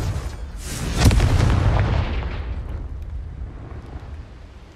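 A Confringo blasting spell from the video game Hogwarts Legacy bursts into a single loud, booming explosion about a second in, its rumble and debris decaying slowly over the following seconds.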